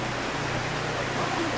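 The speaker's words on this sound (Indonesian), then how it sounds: "Niki hujan rahmat." Steady rain falls during an outdoor religious sermon, a dense, even hiss that continues without pause across the whole stretch, with a faint low hum beneath it.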